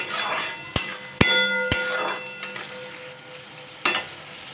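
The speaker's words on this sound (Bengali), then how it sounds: "তো সব কিছু দিয়ে এখন এটিকে ভালো করে কষিয়ে নিতে হবে, পুরো একদম মশলার মধ্যে তেল ছেড়ে দেবে ততক্ষণ অবধি।" Spice masala fries in oil while being stirred, a steady sizzle punctuated by sharp metallic clanks of a spoon against the pot, some ringing briefly, spaced irregularly over several seconds.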